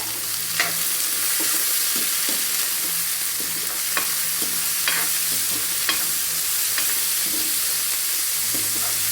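Green chili, ginger and garlic sautéing in a hot pan give a steady sizzle, broken every second or so by sharp clicks and scrapes of a spoon stirring against the metal, with no voices.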